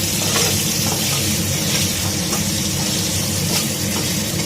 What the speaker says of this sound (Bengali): আলুটা ভালো করে লাল লাল করে ভেজে নেব।